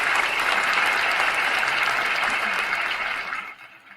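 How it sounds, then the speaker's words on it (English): An audience claps in sustained, even applause at a live broadcast, a thick continuous patter of many hands that fades out near the end. "Give him a round of applause for tonight"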